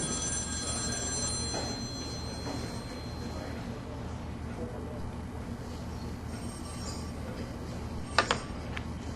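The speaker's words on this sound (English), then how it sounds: "That's your phone." A telephone rings in The X-Files video game, with a repeating electronic ring pattern over a steady ambient background, and a brief louder burst near the end.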